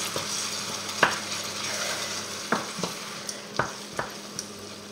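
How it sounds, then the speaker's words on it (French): Roquefort being stirred into a pan over lowered heat until it melts, with a soft simmering hiss and a handful of distinct utensil taps and scrapes spaced across the moment. "Et on remue jusqu'à qu'il fonde."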